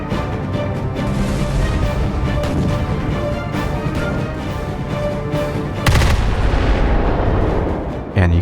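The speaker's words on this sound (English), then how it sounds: "give me that juicy broadside" A warship broadside booms in the Roblox game Naval 1945, heavy artillery fire rolling in dense overlapping blasts for several seconds, then a sharp louder burst and a final crack near the end.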